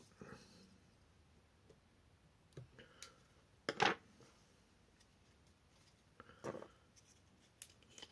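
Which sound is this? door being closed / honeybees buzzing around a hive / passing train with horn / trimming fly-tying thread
trimming fly-tying thread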